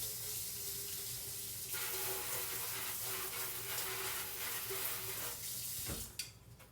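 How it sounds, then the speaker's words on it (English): Water runs steadily from a kitchen tap as something is rinsed beneath it, a continuous close splashing hiss that cuts off abruptly near the end with a brief clatter. "I'm gonna rinse this off."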